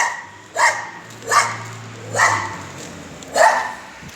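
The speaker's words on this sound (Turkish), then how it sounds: "Köpek sallanmak üzere." A dog barks four times at a steady, spaced rhythm, each bark loud and fairly close, with a low hum underneath.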